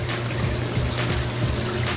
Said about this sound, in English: Add water from showers, washers, and sinks